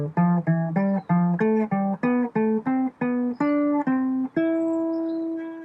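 Guitar running up a major scale in diatonic thirds, paired notes plucked in a steady even rhythm, about a dozen strokes rising in pitch and ending on a long sustained final note, played alone and close.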